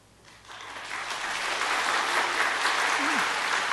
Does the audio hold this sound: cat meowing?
no